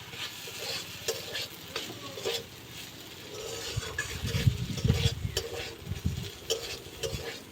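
A spoon stirs a bread-snack patty filling with tomato sauce in a pan, producing soft intermittent scraping and clinks over a faint sizzle, growing busier and louder midway before settling.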